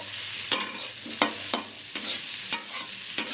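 Vegetables frying with salt in a pan, a soft sizzle punctuated by regular spatula strokes against the pan, roughly one every half second, close and alone.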